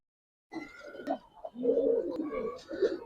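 Giribaz and coloring pigeons coo close by after a brief silence, low throaty rolling calls overlapping with faint flutters and clicks, with no one speaking.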